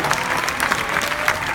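Brief, lively audience applause at a startup pitch competition event, dense clapping from a crowd with a few sharper individual claps standing out.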